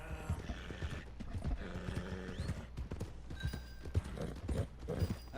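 Horse hooves clip-clop in the video game Red Dead Redemption 2, a steady, close rhythm of hoofbeats with jingling tack and faint ambient sounds underneath.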